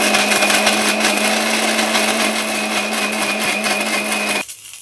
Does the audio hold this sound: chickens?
no